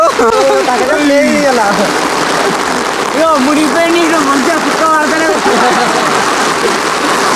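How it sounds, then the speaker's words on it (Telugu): Steady, dense hiss of heavy rain pouring down throughout on a bullock cart camp outdoors, with bird calls and voices chattering over it. "పొట్టు కొడుతుంది వాన. అసలు ఇంతగా కొడుతుంది అనుకోలేదు."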